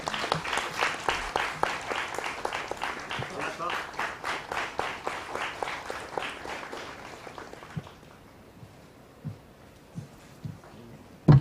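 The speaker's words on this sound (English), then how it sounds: "Please can we have a warm round of applause?" Audience at a national conference on India's Constitution claps in a rhythmic, steady round of applause during a felicitation, loud and sustained before dying away into a few scattered claps.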